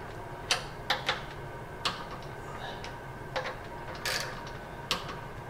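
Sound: ratchet tightening Generac power washer pump bolts

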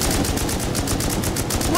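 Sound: gunfire in the video game Rust

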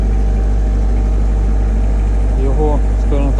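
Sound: Genmac Shell diesel generator running quietly

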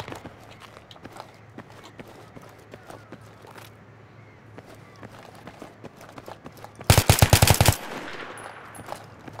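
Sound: gunfire in the video game Battlefield 3

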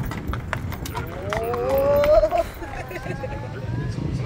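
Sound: horse-drawn carriage ride, horse hooves clip-clopping

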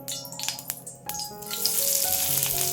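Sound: onion frying in a pan

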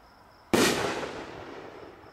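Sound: Pro Hero triple break firework artillery shell bursting

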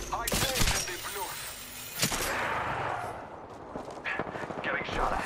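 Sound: gunfire in Apex Legends video game

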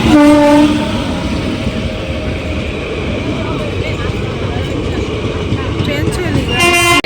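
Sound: passing train

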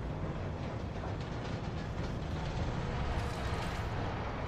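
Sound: train riding in video game MWIII Zombies

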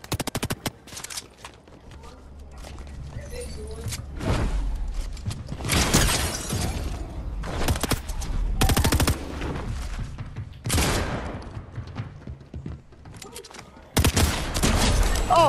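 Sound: SMG gunfire in Fortnite video game

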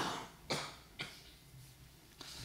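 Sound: cough

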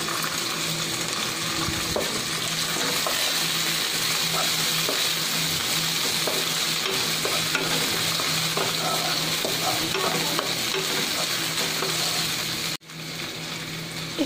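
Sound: raisins and chopped pistachios frying in ghee

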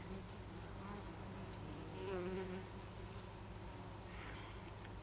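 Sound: bees pollinating raspberry flowers

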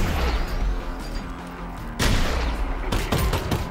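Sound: shotgun gunfire in video game Half-Life: Alyx

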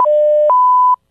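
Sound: collect call prompt beep tone

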